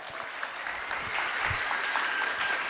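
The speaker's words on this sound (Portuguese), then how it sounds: "aplauda." A stand-up comedy audience breaks into sustained applause, a thick, even roar of many hands that swells slightly louder midway and continues without talk over it.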